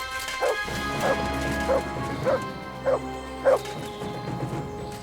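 A dog in the video game Kingdom Come Deliverance 2 gives five evenly spaced barks over a low ambient game background, close and fairly loud.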